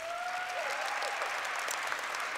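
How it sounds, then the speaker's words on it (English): Quiet, distant applause from a conference panel audience, a brief patter of clapping with a few faint whistle-like tones over it. "A big round of applause for that."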